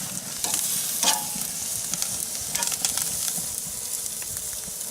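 Beef steak searing on a hot grill while being cooked by the reverse sear method, a steady dense sizzle with crackling pops and brief sharper spits, close and fairly loud throughout, no talking.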